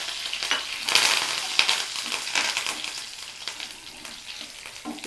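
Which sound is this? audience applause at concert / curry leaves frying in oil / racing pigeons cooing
curry leaves frying in oil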